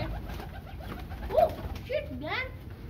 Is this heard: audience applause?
no